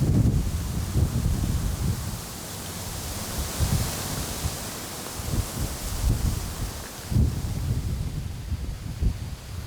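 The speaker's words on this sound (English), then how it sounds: "This weather is changing fast. You know, we had a rainstorm earlier today, and now it's gotten windy." Gusty wind rushes through leaves in a field after a rainstorm, a steady broad whoosh that swells and eases in waves, loud and close with no talking.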